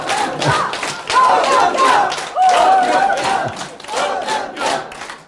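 A lecture audience at a Saturday talk by Huh Kyung-young cheers and shouts together in a loud, sustained swell of voices, rising and falling in waves, with little distinct clapping heard.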